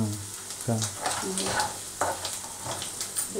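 Garam masala and spices fry in a pan on low gas heat, a steady sizzle with repeated scraping strokes of a stirring spoon, close and fairly loud, with some talk underneath.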